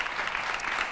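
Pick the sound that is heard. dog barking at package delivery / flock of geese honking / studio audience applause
studio audience applause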